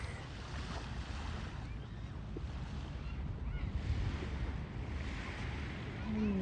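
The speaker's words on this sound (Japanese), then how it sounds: "ここは海です。" Ocean surf on a winter beach, a broad steady wash of waves mixed with wind buffeting the microphone, continuous and fairly loud with no clear voices.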